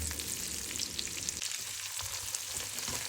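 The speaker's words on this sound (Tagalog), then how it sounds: "Ginisa na natin yung adobo natin na leftover. Ginisa natin sa onions, bawang, and luya." Leftover adobo sautéing in a pan with onions, garlic and ginger, a close continuous sizzle with crackling and stirring, dipping slightly midway.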